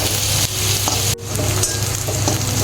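Chopped onion with green chilies sautés in a pan, a dense, loud sizzle running continuously at close range, broken by a brief stirring scrape and clack partway through, with no talking.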